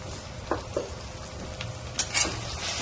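Fish coated in mustard paste with red chilli, coriander and cumin powders, stirred in a pan, giving close wet scraping and gentle sizzling with a couple of utensil clinks, no voice.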